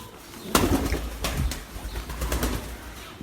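Pigeons coo in low, soft tones while several sharp bursts of wing flapping break in, close by and fairly loud.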